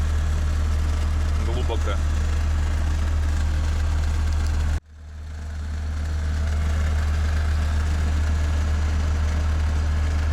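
A vehicle engine idles with a steady low rumble in the snowy taiga, cuts off abruptly midway, then returns and settles back to an even drone as a voice speaks a word.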